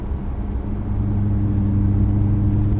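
Maserati car driving, a steady low engine rumble with an even drone throughout, close and moderately loud with no talking.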